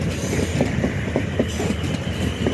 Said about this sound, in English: And we have a Class 450, Class 450, coming into Platform 5